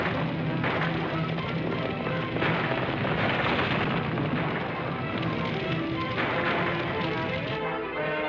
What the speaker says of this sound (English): Of gunfire in the distance.